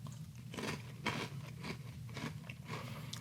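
Crunchy Tres Leches Cinnamon Toast Crunch cereal being chewed up close, a steady series of crisp bites and crackling crunches repeating every half second or so, with no talking.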